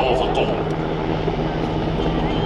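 A German Air Force NH90 tactical transport helicopter flies at an airshow, producing a loud, continuous rotor and turbine roar throughout, with a commentator talking over it.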